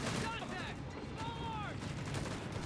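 Heavy machine gun fire in the WWII strategy game Company of Heroes 3 during a 1v1 match, dense rattling bursts under a busy battlefield mix with scattered shots and whistling tones.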